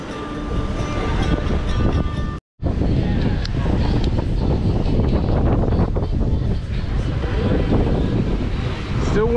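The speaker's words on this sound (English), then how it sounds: "Still windy." Strong wind buffeting the microphone beside a pool at a beach resort, a loud, continuous roaring rush that cuts out briefly and then resumes.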